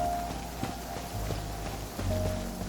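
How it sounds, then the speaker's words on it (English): Rain falls steadily in the video game Genshin Impact, a soft continuous patter with faint footstep-like taps mixed in and no voices. "Rain? Go, go, go! We gotta find some cover before we get soaked."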